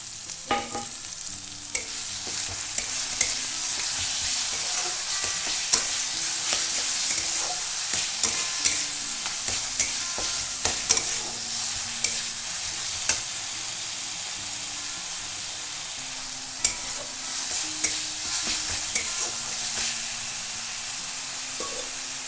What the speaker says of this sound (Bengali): আদা রসুন ভালো করে ভাজা হয়ে গেলে